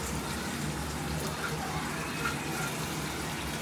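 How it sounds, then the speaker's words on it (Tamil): Ground masala paste poured into a pot of Trichy-style mutton curry, a steady wet gushing and sloshing that runs the whole time at moderate loudness with no talking. "இப்போ நம்ம இதை அரைச்சி வச்சதையும் இதுக்குள்ளே எடுத்து ஊற்றிக்கலாம்"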